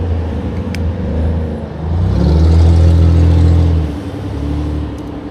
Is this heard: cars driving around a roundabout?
yes